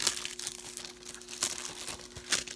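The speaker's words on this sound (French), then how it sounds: "Je vais le déballer, je vais vous montrer l'intérieur." Plastic packaging on a Jarhead Blu-ray/DVD combo crinkles and crackles in short, close bursts as it is peeled open, with sharp rustles and a few tearing snaps.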